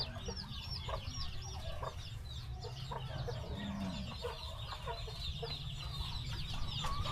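A Chabo bantam chicken clucks in a backyard coop, short soft calls repeating over steady low background noise, with other birds faintly chirping.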